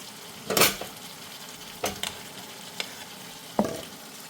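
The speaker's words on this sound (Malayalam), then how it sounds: "ഇപ്പോൾ നമ്മുടെ സ്വാദിഷ്ടമായ സോയാബീൻ അച്ചാർ ഇവിടെ തിളച്ച് വന്നിട്ടുണ്ട്" Soya chunk pickle cooks in a pan with a soft, constant sizzle, broken by a few sharp scraping stirs of a spoon against the metal, with no talking.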